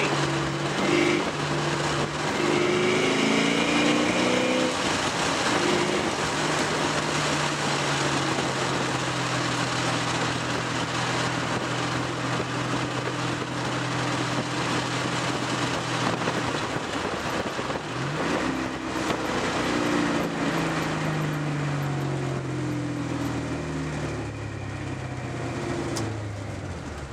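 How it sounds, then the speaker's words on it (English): A 1995 Mustang Cobra with a 308 engine, head cam and intake drives along, its engine and exhaust droning steadily, with pitch rising and falling as it accelerates and shifts, fairly loud and continuous. "Short little ride in the Cobra there. Get a little exhaust clip real quick"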